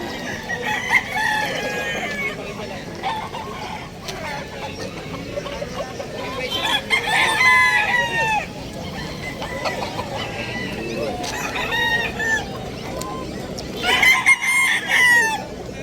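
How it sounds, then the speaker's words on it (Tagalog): Many chickens cluck in a noisy crowd at a pet market while roosters crow several times, loud and close, with chatter and bustle underneath. "Napakarami ng mga manok dito."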